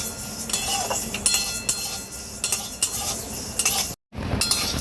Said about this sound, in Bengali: হালকা করে ভেজে নেব